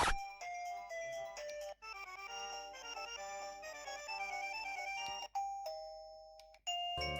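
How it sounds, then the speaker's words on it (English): A wireless indoor doorbell chime for a doorbell camera plays a bright melodic electronic tune, loud and clear, restarting a few times with brief cuts between. "We get a wireless indoor chime."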